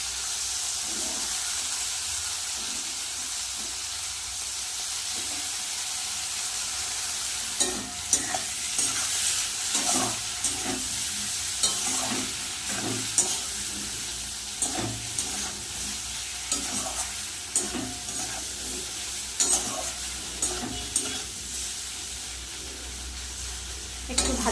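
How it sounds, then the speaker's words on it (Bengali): Potatoes and pointed gourd fried in a pan with poppy seed paste are stirred steadily, a continuous sizzle and hiss broken by frequent scraping, clattering strokes of a spoon against the pan, close and fairly loud, with no talk. "আলু আর পটল কিন্তু লাল লাল করে ভেজে নিয়েছি নুন হলুদও দেওয়া হয়ে গেছে এবার দিয়ে দেবো পোস্ত বাটা"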